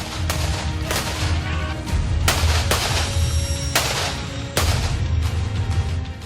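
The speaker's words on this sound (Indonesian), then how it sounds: "melumpuhkannya dengan tembakan peluru tajam" Loud gunshots with live ammunition ring out repeatedly at close range, several sharp cracks in an uneven rhythm over a constant low rumble, as police tactical troops storm terrorists.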